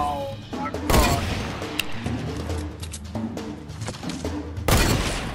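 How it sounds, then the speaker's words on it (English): Bursts of Fortnite gunfire crack out repeatedly in quick volleys, loud and close, with several sharp shots standing out over a steady game backdrop. "Wait, somebody else was shooting at him?"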